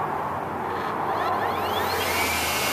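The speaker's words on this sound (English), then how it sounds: "I'm going to start out low and then work my way up to high and all the way to turbo" An EGO 56v battery leaf blower on its low setting, a steady close airy whoosh with a faint motor whir that swells slightly toward the end.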